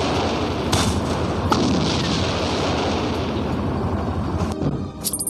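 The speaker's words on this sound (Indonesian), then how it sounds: "Tembak. Tembak lagi." Continuous gunfire and blasts from the Call of Courage shooter game form a dense, loud barrage with sharp cracks standing out now and then, before it cuts off near the end.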